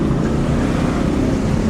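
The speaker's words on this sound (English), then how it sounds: "the roar of the tuk-tuk engines, the motorbikes, it's all really part of the fun" Engines of tuk-tuks and motorbikes rumble in a dense, steady low roar on a busy Bangkok Chinatown street, continuous and close with no break or voices.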